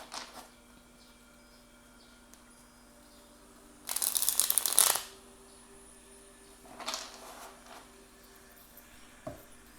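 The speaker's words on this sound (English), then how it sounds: "when I've been shuffling, I felt a little bit of resistance with shuffling" Tarot cards are shuffled by hand during a quiet reading. One dense, rapid riffle of cards lasts about a second, a softer shuffle follows, and faint handling noises are heard on either side.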